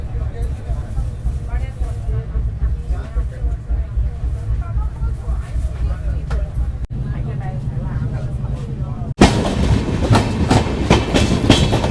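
Goa Express running between Belagavi and Pune, heard from inside a 3-tier economy coach: a steady low rumble and rhythmic clickety-clack of the wheels throughout, with a louder, brighter surge of rattling noise near the end and some speech beneath.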